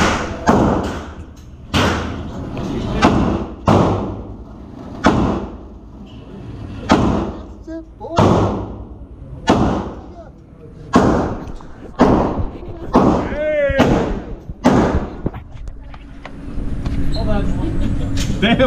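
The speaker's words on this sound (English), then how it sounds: "All eight shots." Gunshots fired at an indoor shooting range in LAX, a series of about eight loud, sharp reports spaced irregularly over many seconds, with people talking between and under the shots.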